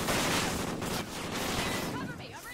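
Dense, continuous gunfire from a first-person shooter video game, with rapid overlapping shots and a fusillade-like roar filling the whole moment, loud and close.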